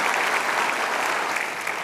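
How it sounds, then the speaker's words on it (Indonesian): A studio audience at a televised talk show claps in a dense, steady burst of applause, loud and continuous for a short stretch. "Luar biasa, kita kasih tepuk tangan."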